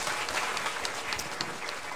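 Dense, steady applause from a church congregation at a Korean spring new-life festival service, filling the short moment without a break.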